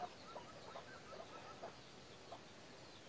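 Chickens cluck softly in a village, with a few short clucks spread across faint background noise at a distance and no speech.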